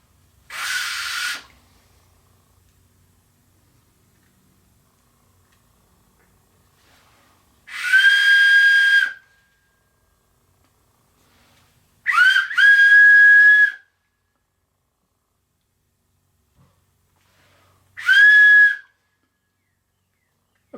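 A homemade wooden whistle is blown in four separate short toots, each a clear breathy tone with a bright pitched core, separated by long silent gaps as it is tuned.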